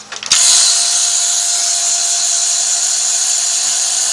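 A heat embossing tool switches on with a click and then runs as a loud, steady, close fan-like whir over rubber-stamped wall art, holding constant without talk.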